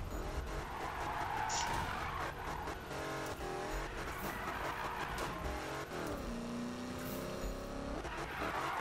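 Car engine roaring and tyres skidding through a massive drift in the Need for Speed racing game, loud and continuous, with pitch sweeps as the car slides and accelerates.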